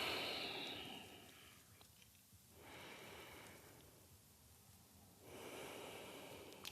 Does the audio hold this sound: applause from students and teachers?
no